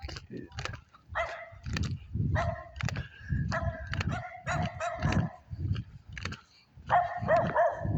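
A small dog barks repeatedly in sharp, high yaps, at times in quick pairs or bursts, close by during an outdoor stroll at the Rosemont mansion grounds.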